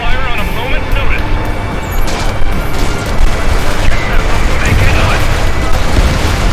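Gunfire strikes a fighter jet in Ace Combat 7, a dense, continuous rattle of impacts and roaring engine noise, loud throughout, with radio chatter running underneath.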